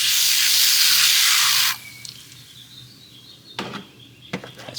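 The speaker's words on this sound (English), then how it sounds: "CRC battery cleaner. Shake it really, really well. Put a little coat on there." CRC battery cleaner sprays from an aerosol can onto a Toyota Tacoma battery in one loud, close, steady hiss lasting under two seconds, then cuts off, followed by faint clicks and handling noises.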